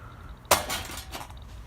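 Metal cooking pot set down with a sharp clank onto a lit backpacking stove, a single close impact followed by a brief rattle, then quieter clatter over low background noise.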